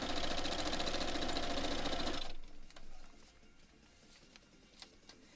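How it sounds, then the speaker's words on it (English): A sewing machine chain-pieces quilt blocks in a fast, steady needle patter for about two seconds, then stops, leaving faint handling noises and quiet ticks. "Let's do some chain piecing."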